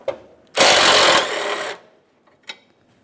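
A power tool whirs in a sharp burst of just over a second while backing out a 10mm bolt on a 2007-2013 Acura MDX radiator support, with a couple of faint metallic clicks around it.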